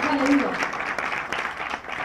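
Congregation applause at a Sunday women's church service in Urdu, a dense continuous clapping wash over about two seconds with a voice calling out over it at the start.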